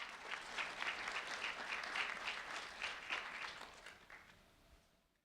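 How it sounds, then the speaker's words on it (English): An audience at a sheriff's office recognition event claps for a high school sophomore, a faint, steady patter of many hands that tapers off and fades out at the end. "a round of applause for Tatiana Bishop"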